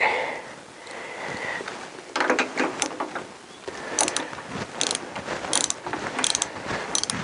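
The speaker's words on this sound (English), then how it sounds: "Now I've got a ratchet." A hand ratchet driven through a 1/2 to 1/4 inch socket reducer clicks in several quick rapid bursts, close and loud, with brief pauses between strokes during motorcycle dashboard work on a CBR1000F.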